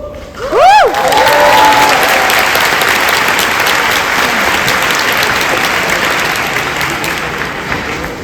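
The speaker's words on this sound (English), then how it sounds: "just hold your applause to the end" A large audience applauds at a secondary school graduation ceremony. The sustained, dense clapping fills the hall, swells after a brief voice at the start and then slowly tapers.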